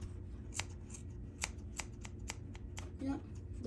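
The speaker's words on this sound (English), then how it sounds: "when you're cutting your yarn, yes, you can just cut like straight lines here on the side" Scissors snip tufted yarn along the edge of a rug, a quick series of light, crisp cuts at a fairly even pace under steady low background noise.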